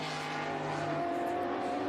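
A brand-new Trans Am race car screams past at Sebring, its engine note rising and falling loudly and continuously over two seconds, with a faint squeal of tires.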